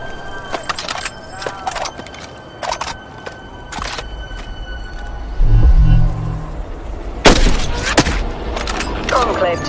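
A single sniper rifle shot fired in the Hitman Sniper mobile game, a loud sharp crack with a short booming tail partway through, set among quieter game ambience and mechanical clicks.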